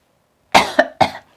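Two or three sharp, close coughs in quick succession, loud and alone, right after a sip of gin.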